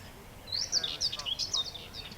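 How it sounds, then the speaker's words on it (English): Birds singing at Chafford Gorge, a few faint, high chirping phrases from a distance over quiet background. "Now Graham's just off his recording bird song this morning"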